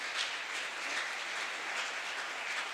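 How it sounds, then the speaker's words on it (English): Applause fills a conference hall for the session speakers at a savanna science meeting, a steady wash of many clapping hands at moderate distance, even and unbroken throughout. "Can we have a round of applause for all the speakers of the session?"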